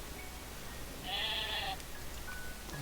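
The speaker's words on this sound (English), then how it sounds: "Come here. Stupid sheep." A sheep in the video game Craftopia gives one short, clear bleat lasting under a second, set against a low, steady background hiss.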